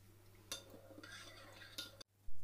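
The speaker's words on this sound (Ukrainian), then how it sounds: "Желатин заливаємо сиропом, перемішуємо і залишаємо" A utensil stirs gelatin into syrup in a bowl, giving soft scraping with a few brief clinks of metal against the dish, moderately close and fairly quiet. A steady low hum runs underneath the stirring.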